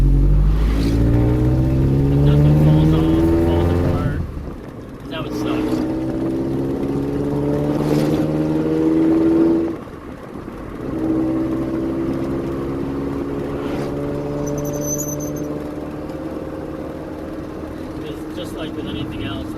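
A 1986 Nissan D21 pickup truck drives along, its engine droning and rising through repeated gear pulls with steady road noise, while someone talks over it throughout.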